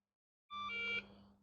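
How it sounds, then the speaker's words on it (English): Losi Pro Moto RC motorcycle and DX3 handset beeping on power-up, a short bright electronic tone with a pitch step, close and clean in silence, then a low hum lingering. "The handset will beep and the bike will beep"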